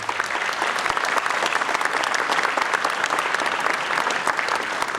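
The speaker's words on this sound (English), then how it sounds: "Would you folks mind giving them a round of applause?" Audience at a 100th Bomb Group reunion at the Palm Springs Air Museum applauding the museum volunteers, a dense, continuous burst of clapping from many people, close and even in loudness from start to finish.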